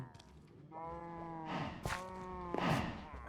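Minecraft cows lowing in a video game, two or three drawn-out harmonic moos in quick succession, fairly close and moderately loud.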